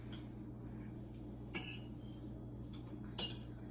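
A utensil clinks lightly against a dish while chopped eggs and rice are stirred, with two brief bright scrapes standing out over a quiet, humming room.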